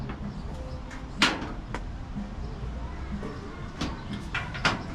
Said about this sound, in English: now we'll do a little testy door shut